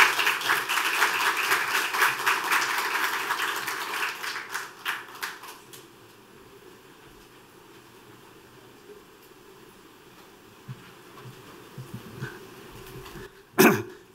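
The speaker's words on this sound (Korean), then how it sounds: "큰 박수로 환영해 주시기 바랍니다." Audience applause in a conference hall welcomes a former prime minister to the stage, loud crowd clapping for about five seconds that quickly fades into quiet room noise with a few coughs and a sharp bump near the end.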